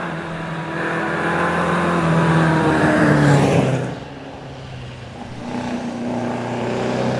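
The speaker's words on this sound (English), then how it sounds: "Louis Parkin on the climb now in the Frazer Nash Super Sports" Vintage Frazer Nash Super Sports car climbing the Prescott hill climb course, engine note rising loudly as it accelerates, then dropping off at a gear change before building again, heard alone.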